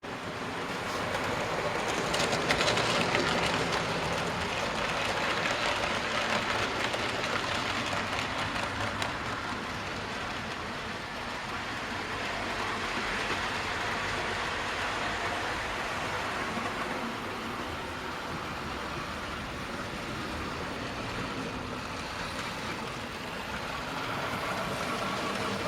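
A model train runs on the track of a scratch-built loft railway with main and branch lines, giving a continuous rumbling, whirring roll that swells and fades slightly as it moves around the layout.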